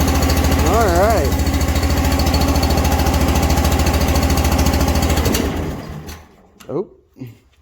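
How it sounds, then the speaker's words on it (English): A Robin EX40 small gasoline engine idles on a Timberwolf log splitter with a loud, steady chugging hum. Someone speaks briefly over it. The engine then cuts out and winds down, followed by short sounds of a voice. "I got this motor running at an idle"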